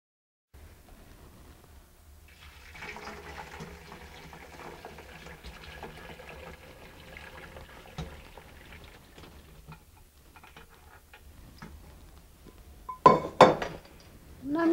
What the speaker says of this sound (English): You can use a ladle or you could just pour it in through the strainer.